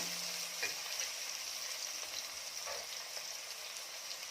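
Chopped tomatoes added to browned onions in a pan for Kolhapuri mutton curry give a soft, steady hiss of frying with a few faint stirring touches, quiet and even throughout.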